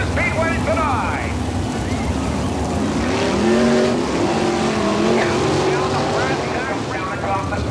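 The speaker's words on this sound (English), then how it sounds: "Wish them well on 40 laps of all-out sprint car racing excitement here at the Grandview Speedway tonight." Sprint cars racing on the Grandview Speedway oval in Bechtelsville, Pennsylvania, at a 1998 All Star Circuit of Champions event: a loud, continuous roar of high-revving engines rising and falling as the cars pass, beneath an announcer's voice.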